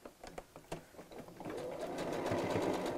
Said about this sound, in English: I'm sewing from the back again, so I'm coming up the other way so that I can see where my stitches were.